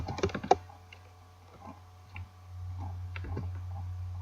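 Typing on a computer keyboard into a Google search bar: a quick burst of key clicks, then a few scattered taps over a steady low electrical hum, close and fairly quiet.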